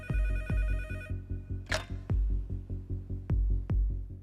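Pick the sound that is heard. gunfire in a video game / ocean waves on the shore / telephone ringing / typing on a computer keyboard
telephone ringing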